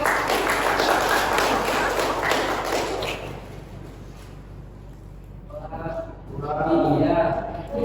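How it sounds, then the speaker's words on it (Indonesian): A room of people claps for a few seconds, a dense patter of applause that fades out, followed by voices talking. "Tepuk tangan dulu."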